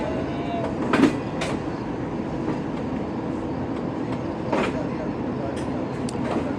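Green Line Express passenger train rolling slowly at cautious speed near Karachi, a steady close rumble of wheels and carriages with occasional louder clanks and knocks over continuous track noise.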